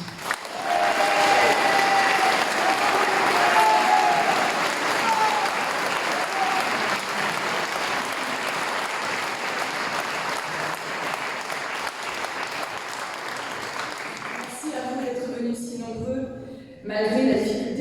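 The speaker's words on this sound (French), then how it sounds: "je vous invite à lui faire un tonnerre d'applaudissements" An audience in a town hall breaks into sustained, loud applause that continues for many seconds before fading, with a few voices speaking as it dies down.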